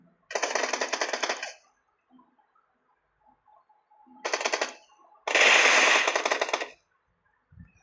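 Rapid automatic gunfire in a video game, three loud bursts of machine-gun fire separated by quiet gaps, with faint game sounds between them.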